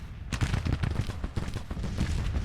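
Musket volleys in the Civil War strategy game Grand Tactician crackle as rapid, overlapping shots with booming low rumbles, a loud, dense fusillade that keeps rolling after a sudden start.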